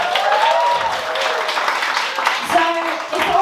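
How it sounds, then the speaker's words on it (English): An audience at an evening of newcomer stand-up comedy claps in a round of applause, a dense burst of clapping heard under and around a host's talking. "Please give them a round of applause."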